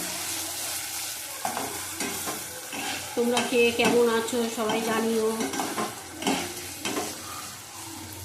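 Eggplant slices frying in a pan, with a steady sizzle under repeated stirring and scraping clatter of a utensil against the pan; a voice speaks briefly over the cooking.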